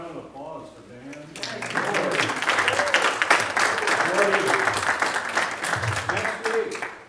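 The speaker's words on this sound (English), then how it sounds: "How about a round of applause for Dan?" Audience clapping for a presenter, starting under a man's speech, then swelling into full, sustained applause from a crowd that fades near the end.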